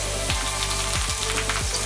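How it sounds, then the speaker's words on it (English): Longganisa sausages fry in a hot pan with a steady, close crackling sizzle, broken by a few soft knocks as they shift about. "I'm just going to go ahead and drop the sausages inside."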